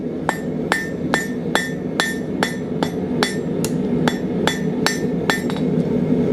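Hammer blows strike a nail sword being forged on an anvil, about a dozen sharp metallic ringing hits in a steady rhythm, loud and close with no talking.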